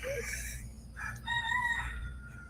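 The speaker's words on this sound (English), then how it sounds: "You can hear the roosters" A rooster crows with a drawn-out, rising call, then a second crow follows outdoors. Both sound fairly close over a steady low background hum.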